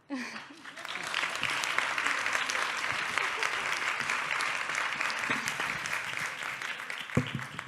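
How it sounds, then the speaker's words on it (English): An audience at a youth forum breaks into sustained applause, a dense steady clatter of many hands clapping, rising quickly and holding strong throughout. "give them a full round of applause"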